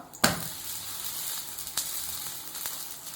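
Adai, a crisp lentil dosa, sizzles steadily on a hot pan just after flipping, with a sharp hiss at the start and a few crackling spikes in the continuous frying.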